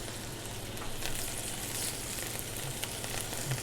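Mushrooms searing in a hot pan with thyme, garlic and stock, a steady close sizzle and crackle with occasional small pops and no talk.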